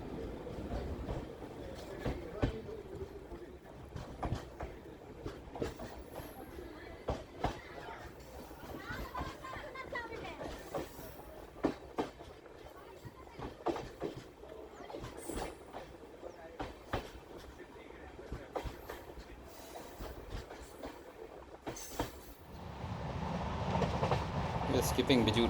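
Matsyagandha Express LHB coaches running on Konkan Railway rails, a steady rumble with rhythmic clickety-clack wheel beats heard from inside the carriage, faint chatter in the background and a louder roaring rush near the end.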